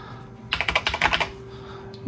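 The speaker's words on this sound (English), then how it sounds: "Nice keyboard sound." A quick burst of clacky keystrokes on the keyboard of a vintage Epson PX-8 computer, about a dozen in rapid succession over roughly a second, close and crisp against a quiet background with a faint steady hum.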